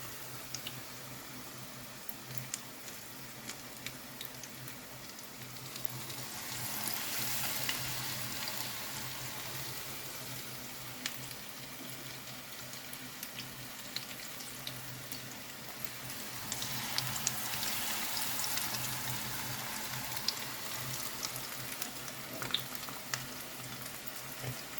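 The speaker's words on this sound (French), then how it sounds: "Et on va les mettre dans l'huile chaude." Chickpea and chorizo fritters frying in hot oil, a soft continuous crackling sizzle with scattered pops, quiet and steady, swelling twice as the batter goes in.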